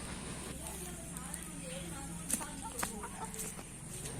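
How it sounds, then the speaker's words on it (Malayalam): White turkeys on a poultry farm give scattered clucks and short calls amid steady flock murmur, with a couple of sharper squawks standing out, while a voice talks in the background. "ഈ ഉയർന്നു ചാടിപ്പോകുന്ന വെളുത്ത പക്ഷികൾ അഥവാ ടർക്കിക്കോഴിയെ പറ്റിയാണ്"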